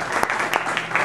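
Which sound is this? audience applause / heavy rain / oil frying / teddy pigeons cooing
audience applause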